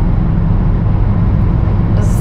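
A 612-hp Mercedes-AMG E63S Edition 1 drives on the road, its engine a loud, continuous low rumble blended with road noise throughout.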